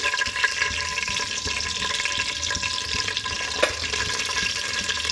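Whole cinnamon and cloves frying in hot oil while cooking chicken dum biryani, a continuous close sizzle and crackle with occasional pops, steady throughout and without talk.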